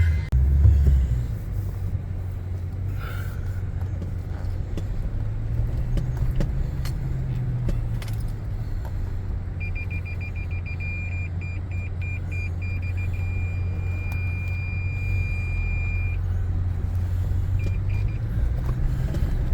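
Toyota four-wheel-drive vehicle crawling along a rough, narrow off-road trail, a steady loud low engine rumble with occasional knocks and bumps and a faint electronic beeping partway through, no talk.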